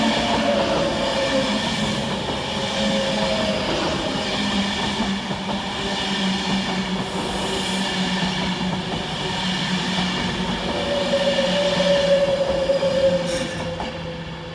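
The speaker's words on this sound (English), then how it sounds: "Up next for Avanti West Coast is 390047, working 1H62 from London Euston to Manchester Piccadilly" Avanti West Coast unit 390047, a Pendolino on a London Euston to Manchester Piccadilly service, runs through Cheadle Hulme station with a steady, loud rolling rumble, electric whine and wheel noise for the full length, swelling slightly near the end.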